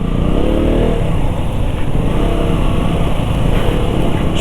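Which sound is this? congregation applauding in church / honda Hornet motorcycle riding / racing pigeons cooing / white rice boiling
honda Hornet motorcycle riding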